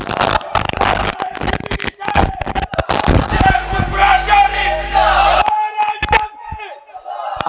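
A large crowd at an outdoor Islamic sermon gathering (waz) shouts the takbir chant in loud, overlapping bursts of yelling voices that swell and drop over several seconds.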